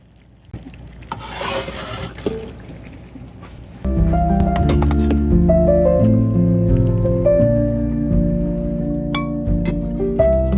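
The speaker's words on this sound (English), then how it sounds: "the hamburger meat is done, so we're just going to drain this" Grease from cooked hamburger meat drains out of a pan in a brief, splashy pour lasting a couple of seconds, then gives way to steady instrumental music.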